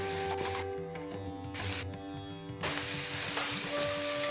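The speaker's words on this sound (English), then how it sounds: "Give them a stir and 30 seconds frying to allow them to release the flavours." Turmeric and ground spices fry in a pan for an aubergine (brinjal) bhaji, giving a steady, close sizzle that rises and falls as they are stirred.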